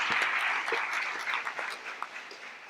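An audience at a conference panel debate claps for the guests and moderator, a soft, fairly distant wash of applause that gradually thins out over a few seconds.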